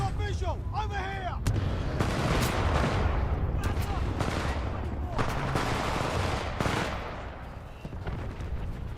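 Dense, continuous gunfire and heavy weapon bursts in the video game Titanfall 2, loud and close, with sharp repeated shots over a rumbling battle din and shouted voices mixed in.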